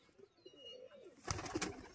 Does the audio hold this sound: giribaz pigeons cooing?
yes